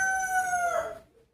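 A single rooster crows nearby, one clear drawn-out call that fades to quiet at the end.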